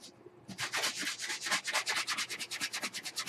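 Brisk, rhythmic rubbing strokes of sandpaper on a Mod Podge picture on wood, close and steady, repeating quickly after a brief quiet start.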